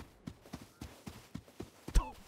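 Horse hooves clip-clop in a video game, a quick run of soft, evenly spaced thuds ending in a sharper, louder step.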